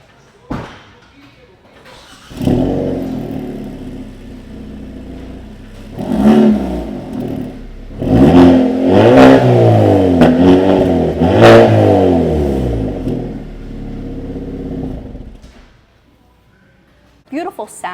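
A stock-exhaust 2024 Hyundai Elantra N with active exhaust revs repeatedly, its engine climbing and falling in several loud blips with pops and crackles, close and alone before fading to quiet.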